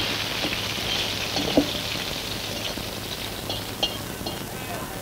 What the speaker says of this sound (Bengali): কি মাছ ভাজতে আর কতক্ষণ লাগবে?